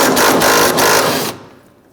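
A power tool loosens a 10mm bolt on the washer reservoir of a 2007-2021 Toyota Tundra: a loud, rapid ratcheting buzz with brief pulses runs close to the mic for about 1.3 seconds, then stops abruptly.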